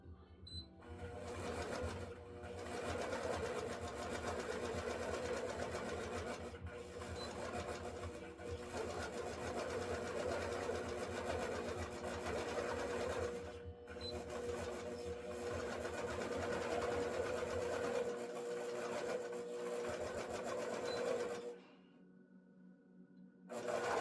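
Close, steady whirr of a sewing machine basting a straight quilt within a quarter-inch seam allowance, running continuously with a few brief pauses and stopping near the end.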